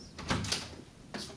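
A quiet door opening or closing in a classroom, a soft thud and rattle followed by a brief second knock, faint against room tone.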